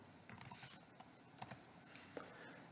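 Soft keyboard typing at a computer while writing Angular code, a few scattered faint keystroke clicks at a quiet, steady distance with no talking.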